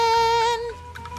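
Gary the snail from the SpongeBob SquarePants: Battle for Bikini Bottom Rehydrated video game meows in a clear, sustained tonal cry that wavers and trails off, followed by a couple of short softer meows, alone without talk.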